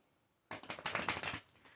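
Playing cards are riffled and shuffled up close, a rapid flurry of crisp flicking and snapping lasting about a second.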